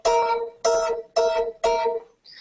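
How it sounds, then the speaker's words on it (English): A tritone interval is played higher, sounded as four separate, evenly spaced tonal notes with bright harmonics. Each one decays briefly before the next, and the last is cut short at the end. "So if you go a little higher with the tritone, it's going to sound like this."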